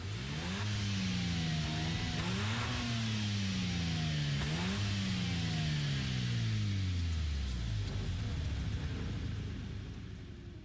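Daihatsu Copen 2002 carrying an RX-7 Spirit R Type A FD 2002 rotary engine swap in Gran Turismo 7, revving repeatedly in rising sweeps, loud and close, with the pitch finally falling away as it settles.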